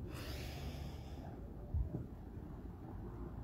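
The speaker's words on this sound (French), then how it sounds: "Inspirez." A deep, steady inhale during a guided breathing exercise, a soft airy rush close to the ear lasting about a second and a half before fading into quiet room noise, with a faint low thump partway through.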